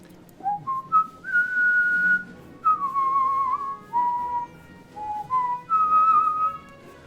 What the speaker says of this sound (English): I'll occasionally whistle the main theme to that song